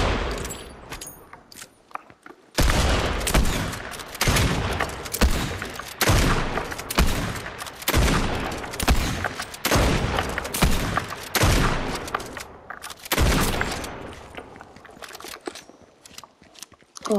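The Mammoth pistol in the video game Fortnite fires loud, rapid gunshots one after another in dense bursts after a short quieter opening.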